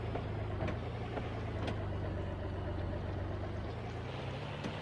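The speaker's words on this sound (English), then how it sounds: "Tractor runs full out, no problems." A tractor engine in a farming video game, running at full power across a frozen field, giving a steady, loud, low drone that holds through the whole clip.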